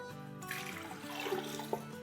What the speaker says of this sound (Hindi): साथ ही इसमें हम डालेंगे 6 कप पानी।